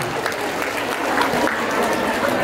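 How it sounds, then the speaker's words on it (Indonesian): Children at a storytelling session clap together in a dense, lively round of applause that stays steady and fairly loud for the whole moment. "Tepuk tangan dulu dong."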